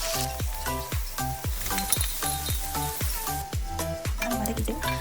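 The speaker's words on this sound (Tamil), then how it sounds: "கட் பண்ணி வச்ச வெங்காயத்தை சேர்த்து நல்லா வதக்கிக்கலாம்." Chopped onions sauté in oil inside a pressure cooker with whole spices, a close sizzle under a quick, regular run of metallic stirring scrapes and clinks.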